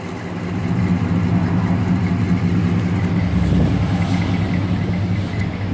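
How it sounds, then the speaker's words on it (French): A 1970 Buick Skylark with dual exhaust idling steadily nearby, a deep even rumble with a slight swell partway through, no voices. "là on peut écouter la voiture"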